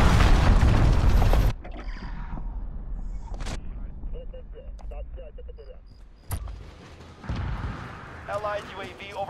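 A cruise missile strike in Call of Duty Modern Warfare multiplayer: a loud, roaring blast opens the moment, then cuts off into quieter rumbling, mechanical clicks and scattered distant booms.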